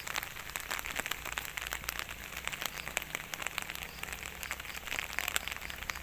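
Steady rain falls outdoors at a hillside spot in Tanay, Rizal, a dense, even patter of drops on surfaces, moderately quiet and continuous with no voices.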